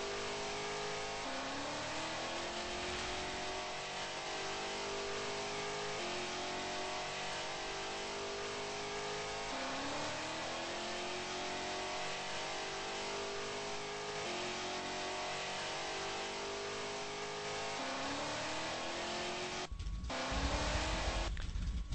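A car engine in a racing video game winds up repeatedly through third gear, each rising rev followed by a shift, steady and continuous with tire noise near the end and no talking.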